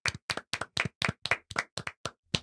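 Close, crisp hand claps from a podcast studio, about ten sharp separate strikes in a quick, fairly regular rhythm over a couple of seconds, with no talking.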